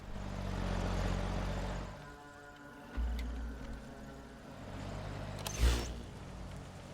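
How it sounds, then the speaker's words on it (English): A truck engine in Metal Gear Solid V: The Phantom Pain drones low and steady, fading between passes and swelling again, with a brief sharp thump near the end. "I gotta be careful and listen to the truck"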